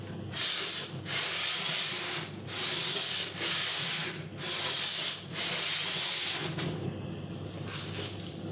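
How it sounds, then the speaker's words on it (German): Repeated rhythmic strokes of sandpaper rubbing by hand along a narrow wood groove, about six close, steady back-and-forth passes with brief pauses between them. "muss ich halt einfach jetzt ein paar Mal mit dem Schleifpapier hier durchgehen"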